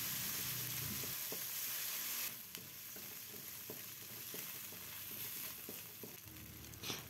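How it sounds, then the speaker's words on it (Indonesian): Ground spice paste sautés in a little hot oil, a soft continuous sizzle with faint stirring taps, first brighter and hissier, then settling into a quieter, even fry. "Kita tumis sampai bumbu harum agar tidak langu."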